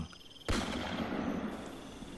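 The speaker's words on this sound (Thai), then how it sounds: "ไม่ทันขาดคำเสียงปืนก็ลั่นขึ้นอีกปัง" Another shotgun blast rings out in a forest hunting scene, a single sharp report followed by a long rumbling tail that hangs on to the end, heard alone.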